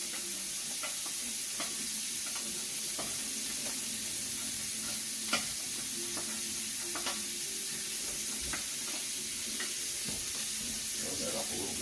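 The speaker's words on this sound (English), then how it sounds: "Now the bacon, I just want to get it soft" Bacon frying and being stirred in a pan, a steady sizzle with scattered scraping clicks from the utensil throughout, close and continuous.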